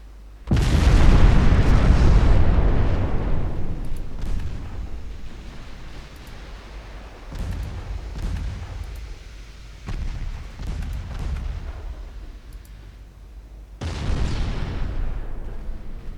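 Naval gunfire in Ultimate Admiral Dreadnoughts, including 4.2-inch secondary fire, booms out as a loud opening explosion with a long rumbling decay, then several duller distant blasts and a final heavy boom.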